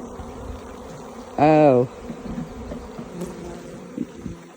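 A honey bee buzzes close by in a sustained, loud whine for about half a second while a beekeeper works an open hive, with a faint background hum and a brief spoken exclamation.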